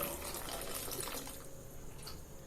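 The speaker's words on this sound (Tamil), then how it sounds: "நீங்கள் உடனடியாகவே தண்ணி சேர்த்துக்கலாம்" Water poured into street-style pav bhaji as it cooks in the pan: a close, continuous gush of liquid with bubbling, easing off toward the end, with no talk.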